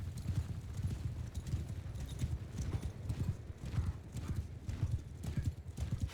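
Many cavalry horses gallop in the Mount and Blade II Bannerlord video game, a dense, continuous drumming of hooves in the foreground with an occasional whinny, sustained and loud throughout.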